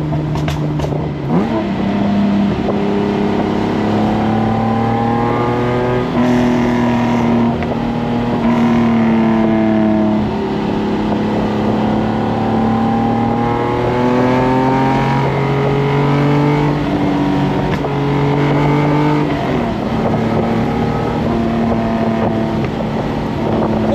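A TVR Tuscan's engine drones steadily under load while driving, its pitch rising and falling through several gear pulls, loud and close with wind noise throughout.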